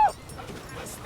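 Krypto the super dog from the 2025 Superman film yips and whimpers in brief high-pitched bursts at the start and end, quiet and surrounded by soft background noise.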